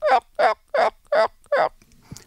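A hunter's call imitates a turkey hen's yelp in five evenly spaced, clear, loud notes, followed by a faint rustle.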